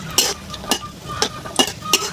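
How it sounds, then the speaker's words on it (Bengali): Pistachios, almonds and raisins frying in ghee for sabudana payesh, a soft sizzle under four or five crisp scraping strokes of a spoon across the pan, close and clear. "এগুলো ভালোভাবে আমি ভেজে নিব"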